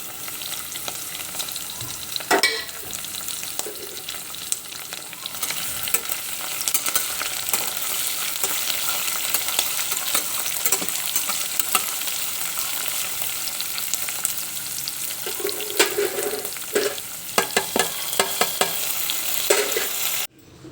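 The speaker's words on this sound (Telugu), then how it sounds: "దోరగా వేయించాలి పోపుని" Onions, onion paste and green chilies sizzle and fry steadily in a pan, with occasional scraping and clinks as they are stirred, close and continuous throughout.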